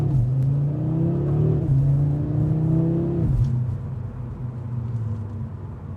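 A 2026 Audi RS3 with its inline five-cylinder engine accelerating hard, a loud, close rising engine note with two upshifts where the pitch drops and climbs again, then settling into a steady lower drone.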